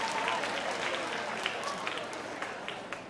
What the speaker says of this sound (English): All right, everybody clap for Andrew